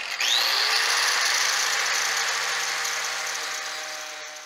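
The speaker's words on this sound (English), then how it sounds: "buzz through with the grinder and cut these two little pieces" An angle grinder cuts through two small plastic radiator tabs on an old beater car, giving one loud, continuous high buzzing whine that slowly fades over a few seconds, with no talking.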